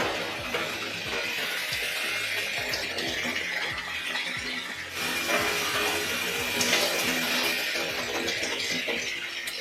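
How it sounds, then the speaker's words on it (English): Water runs steadily over hair during a wash-day rinse of a pre-poo treatment on type 4 natural hair, a continuous close splashing hiss with small surges and no talking. "I'm going to start today's wash day by rinsing out my pre-poo"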